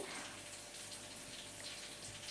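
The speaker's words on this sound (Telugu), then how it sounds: "మూడు గ్లాసుల వాటర్ అయితే పోసానండి" Water poured from glasses into a clay pot for a Sunday chicken curry, a steady hissing, splashing pour running close and continuous throughout.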